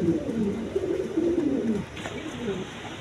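A pair of German Beauty pigeons coo steadily at close range, a low rolling murmur over a faint background hiss.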